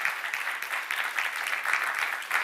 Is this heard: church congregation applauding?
yes